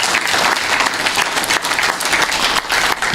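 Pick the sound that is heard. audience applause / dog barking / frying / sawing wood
audience applause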